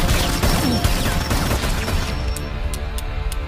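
Gunfire in an Iko Uwais martial arts action film, a dense, loud barrage of shots and crashing impacts that gradually thins out toward the end.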